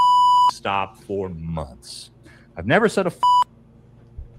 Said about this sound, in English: The beeps make it so crazy.